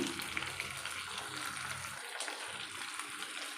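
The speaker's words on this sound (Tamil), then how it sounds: "தக்காளி ஆட் பண்ணியாச்சு அது வதங்குறதுக்கு உப்புக்கல் சேர்த்துக்கோங்க" Tomatoes sauté with rock salt in a pan for an eggplant curry, a close, steady sizzle and frying crackle with faint stirring, no voices.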